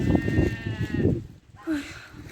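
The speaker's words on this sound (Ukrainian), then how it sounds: "вівці в нас завжди блеють" Sheep bleating at a farm with a greenhouse, a few wavering calls mixed in with nearby talking and background noise.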